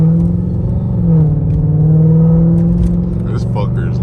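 Straight-piped second-generation Dodge Charger R/T, its deep exhaust rumbling and rising in a steady rev, heard close from inside the car, with a voice talking over the engine toward the end.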